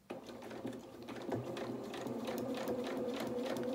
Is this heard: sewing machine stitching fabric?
yes